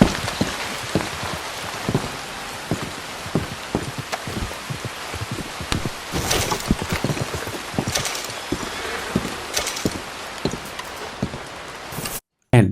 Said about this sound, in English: Looks like the rain is back and Arthur will run to the main cabin.